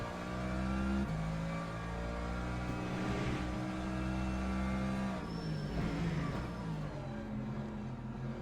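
Race cars in a multiclass endurance racing sim at Portimão, Algarve, including a Ferrari and a Valkyrie, roar past with loud, sustained engine drone and revving, shifting pitch as the cars pass, with faint tire noise.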